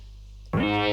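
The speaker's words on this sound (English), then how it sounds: "It's a little bit of wave shaping." A brass-style synth patch processed with wave shaping distortion enters abruptly after a low hum, sustaining a bright, buzzy harmonic-rich tone, loud and alone.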